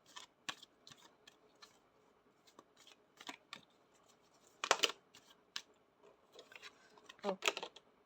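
Tarot cards being shuffled by hand: soft, irregular riffling and flicking taps and papery slides, quiet and close, with a couple of louder bursts of card handling and no speech.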